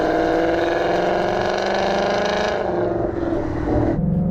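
A 2018-2023 Mustang GT V8 with a Corsa 3-inch cat-back exhaust in normal mode drones loudly and steadily up close, its deep rumble dropping in pitch as revs fall away near the end.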